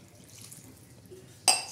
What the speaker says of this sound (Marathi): त्याच्यानंतर आपण हे पाणी टाकणार आहोत